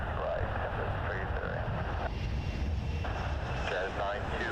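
An Emirates Airbus A380 on short final to runway 06 right at Toronto Pearson gives a steady, continuous engine roar, while radio voices from the control tower talk over it.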